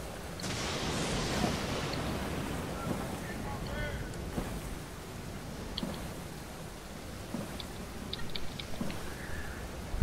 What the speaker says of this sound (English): There's just so many rapids here.